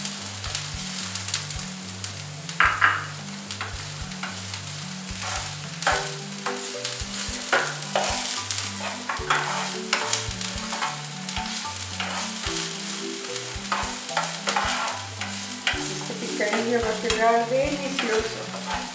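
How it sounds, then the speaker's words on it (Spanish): Onion sautés in a pan for picadillo en caldillo, a continuous close sizzle punctuated by frequent rhythmic clacks and scrapes of a utensil stirring, growing busier near the end, with no talking. "Mientras agregamos la cebolla para que se guise y se cristalice."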